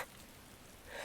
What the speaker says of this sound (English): It's raining hard enough outside.